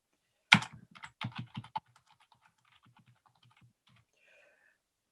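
Typing a comment on a computer keyboard: a quick burst of close, crisp key clicks for about a second and a half, then sparse faint taps in quiet.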